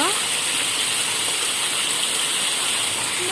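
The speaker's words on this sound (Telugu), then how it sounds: "అక్కడ నీళ్ళు ఎంతగానో పోతున్నాయి కూడా" Heavy rainwater rushes steadily during a downpour in Bhuvanagiri, a dense continuous gush like rainwater flooding down, loud and unbroken throughout.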